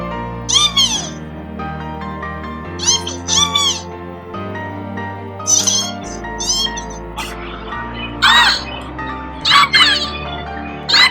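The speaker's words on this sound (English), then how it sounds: "Here's what Eevee sounds like." A Build-a-Bear stuffed Eevee toy plays its recorded Pokémon voice, a string of squeaky, high-pitched cat-like cries in short bursts with brief gaps, loud and close.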